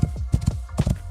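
A horse in the video game Rising World trots past with close, clear clip-clop hoofbeats, several quick uneven strikes in a short burst.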